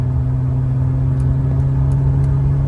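A manual Volvo 960 driving in fifth gear at about 2,800 RPM and 80 km/h, with a steady, loud, droning engine hum and road rumble heard from inside the car.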